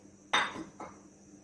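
Jaggery dropping into a metal wok already holding ghee and cardamom, heard as a sharp clattering thud followed by a second, softer knock a half-second later, close and without any talking.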